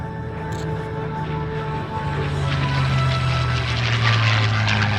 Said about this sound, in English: These are the fighter aircraft.